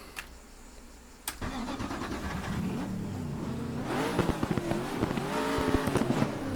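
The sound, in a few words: Nissan GTR GT1 V8 engine in video game RaceRoom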